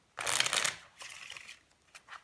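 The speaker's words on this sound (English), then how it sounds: "the spectator shuffle the cards, and you could shuffle the cards" A deck of playing cards is shuffled up close for a card trick: a crisp riffle burst followed by two softer, shorter shuffling flurries.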